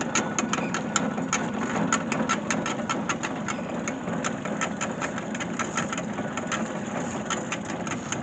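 Tractor engine driving belt-powered equipment at a steam and gas engine show, a steady running engine with fast regular mechanical clicking and rattling throughout, fairly close and continuous.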